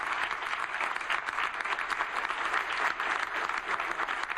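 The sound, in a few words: audience applauding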